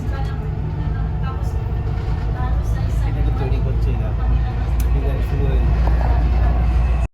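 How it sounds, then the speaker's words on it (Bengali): Inside the last coach of a moving Dubai Metro train, a steady low rumble and rolling hum fills the car, loud and continuous until it cuts off abruptly at the end. "এবার কিন্তু আমরা মেট্রোর একদম লাস্ট কোচে উঠেছি"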